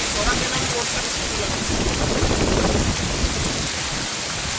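Heavy rain pours down steadily in a village, a dense continuous hiss of drops on surfaces with a faint low rumble beneath, loud and unbroken across the whole stretch.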